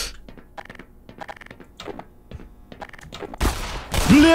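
Gunfire in the video game Black Mesa: after a stretch of scattered quieter clicks and thuds, two loud, close blasts of broadband noise burst out near the end, the second one ringing on.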